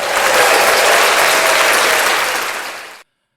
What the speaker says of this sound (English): Should we give him a round of applause?